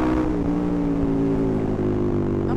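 A steady, throaty Wings aftermarket exhaust on a KTM 1290 Super Adventure S motorcycle drones at an even pace, close and loud, with a deep rumbling tone and no voices.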